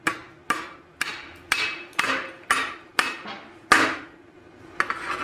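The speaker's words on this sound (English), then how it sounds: "I'm just going to tap that off with a hammer." A small hammer taps dross off plasma-cut metal in a series of about ten sharp, ringing metallic strikes, evenly spaced and close, each with a short bright decay.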